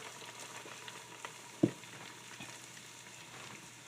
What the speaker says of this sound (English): we got those frying up.